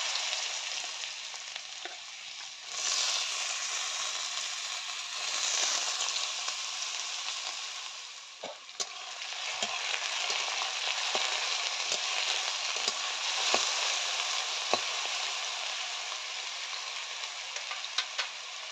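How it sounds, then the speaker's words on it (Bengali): Cut potatoes fry in hot mustard oil, a steady hissing sizzle that carries on throughout, close by and broken now and then by faint ticks and light stirring clicks. "প্রথমে আমি 1-2 মিনিট মতো কেটে রাখা আলুগুলো আগে ভেজে নিচ্ছি।"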